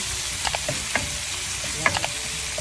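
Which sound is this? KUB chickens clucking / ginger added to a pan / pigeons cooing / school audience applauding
ginger added to a pan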